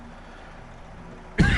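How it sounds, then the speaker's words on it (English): A single sharp cough lands close on the microphone near the end, loud and abrupt after a quiet stretch of low background hum. "Excuse me, sorry to cough in the mic there."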